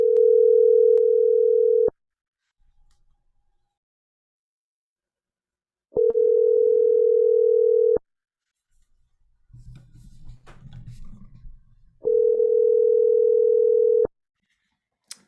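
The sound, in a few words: telephone call dial tone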